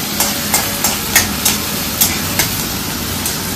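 Onions frying in mustard oil with dried chilli and nigella seeds, a steady hiss of sizzling under repeated sharp scrapes of a spatula stirring the pan at an even rhythm, close up with no talking.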